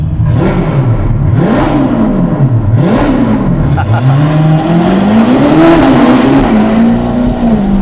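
A Ferrari sports car fitted with a Novitec exhaust revs repeatedly, the engine note rising and falling in several sharp swells before settling into a sustained, loud drone, close and continuous.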